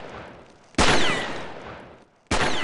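Two loud, sustained bursts of in-game automatic gunfire from an M4 Super 90 shotgun, each hitting suddenly and slowly tapering, separated by a short near-silent gap, with no voices over the shots.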